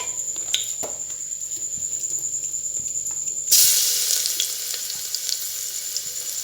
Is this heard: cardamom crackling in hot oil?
yes